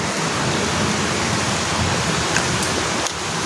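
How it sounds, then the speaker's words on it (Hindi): Heavy monsoon rain falls steadily, giving a dense, continuous hiss with a few faint louder spatters and no voices. "मस्त बारिश हो रही है"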